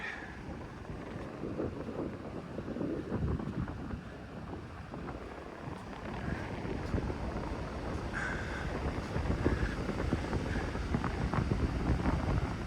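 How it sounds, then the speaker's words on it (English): Strong wind on an exposed coastal hiking trail near Quoin Head, a steady, loud buffeting roar that rumbles across the microphone for the whole stretch and swells slightly toward the end, with no voices. "That was into the wind all the way."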